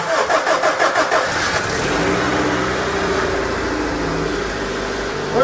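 A 2002 Honda car engine cranks with a rapid rhythmic churn, catches, and settles into a steady, loud, close idle running on its own with no talking.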